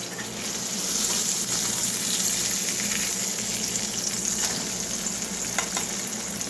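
Meatloaf sizzles steadily in a pan after being flipped, cooked off the grid, a dense continuous crackle and hiss that stays close and even throughout.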